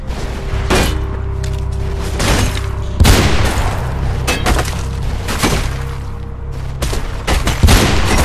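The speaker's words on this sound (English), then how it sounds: "That's who the hell is shooting me." Gunfire in the Mirror's Edge video game fires at the player in loud, sharp bursts and single booming shots, spaced irregularly over a steady background hum.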